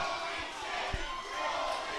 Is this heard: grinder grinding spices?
no